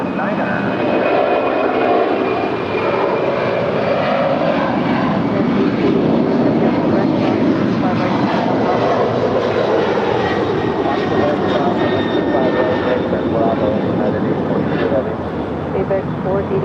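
Boeing 767 jet engines roaring steadily at LAX, a loud, continuous broadband rumble and whine with a faint high tone, sustained throughout with voices underneath.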